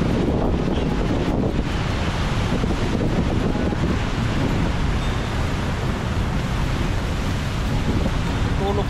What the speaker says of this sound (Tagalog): Diyan pa rin, hangin, lakas, tapos ulan.